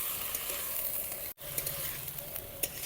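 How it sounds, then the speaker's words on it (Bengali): Dheki shak (fern greens) frying gently on low heat in a pan, a steady soft sizzle with faint crackles, briefly cut out near the middle, no voices. "এখন আমি হালকা তাপে আরও 10 মিনিট শাকটাকে ভেজে নেব।"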